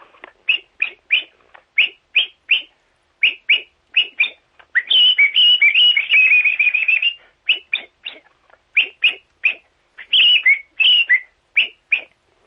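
A whistled imitation of a blackbird's sharp territorial call: rapid, clipped chirps in repeated bursts, with a longer warbling run in the middle.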